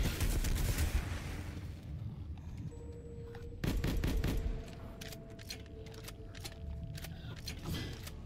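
Gunfire in the video game Call of Duty Cold War while shooting at a tree, with bursts of rapid automatic shots and scattered single cracks over game background noise, moderately loud with no talking.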